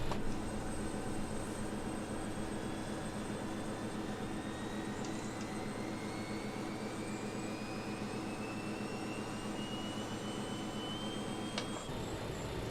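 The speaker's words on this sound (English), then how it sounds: "So we should have engine 4 coming on now" Engine 4 of a BAe 146 jet spools up in a flight simulator, a steady whine rising slowly in pitch over a constant roar, heard alone without talk.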